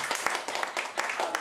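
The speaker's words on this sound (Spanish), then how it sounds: "Dale otro aplauso" Church congregation applause during a Spanish-language worship service, a brief burst of clapping with a quick uneven rhythm, moderately close, with a voice speaking over it.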